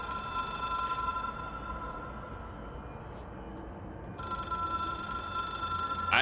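A telephone rings steadily in the video game Control, a sustained bright electronic ringing with a faint droning background, holding at an even level throughout.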